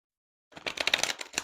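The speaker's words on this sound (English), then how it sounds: "One card didn't want to get shuffled" A deck of tarot cards shuffled by hand after a brief silence, a quick dense run of crisp riffling flutters, close and fairly soft.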